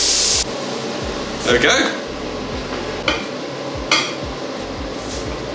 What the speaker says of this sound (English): I'm going to fry the clams in the ginger and garlic.